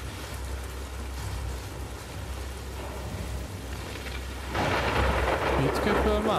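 In the video game The Last of Us Part II, steady rain hisses under a low rolling rumble of thunder, and a louder burst of downpour and thunder swells near the end.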